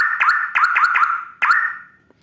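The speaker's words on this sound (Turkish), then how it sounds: "Bu şekilde bir korna yaptım." Custom foot-button horn on an ONVO OV 012 X Plus, a bright electronic tone sounding in quick repeated bursts, about five short blasts close up, the last one fading out.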